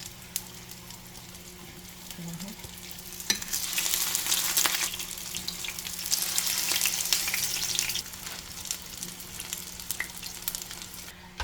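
Saltfish fritters frying in hot oil, a steady close sizzle that swells louder midway and then settles, with no talking.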